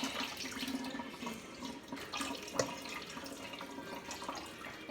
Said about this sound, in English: And then of course gonna rinse the meat.